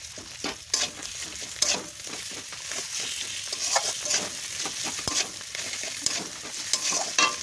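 Hilsa fish head and skin scraps frying in hot oil in a pan, a dense crackling sizzle with sharp pops and stirring scrapes throughout, close and steady with no talking.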